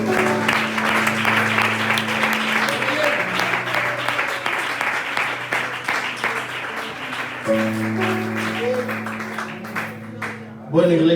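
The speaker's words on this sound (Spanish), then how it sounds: "¿Cuántos le dan un aplauso al Señor?" A church congregation claps, the applause running beneath sustained organ or keyboard chords that drop out and return partway through, with voices mixed in.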